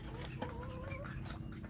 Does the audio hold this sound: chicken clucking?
yes